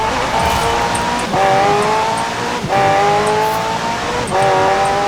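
A race car in Forza Horizon 4 slides twice and brakes hard on a wet track, its loud engine note dropping and rising through gear changes while tyres squeal beneath.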